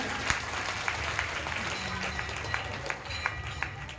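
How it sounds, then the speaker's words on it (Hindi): Audience clapping at a religious storytelling gathering in Katni comes through as a moderately faint, steady patter of hands with a few sharper claps standing out and a low murmur underneath. "सभी का एक बार ताली बजा करके धन्यवाद दें"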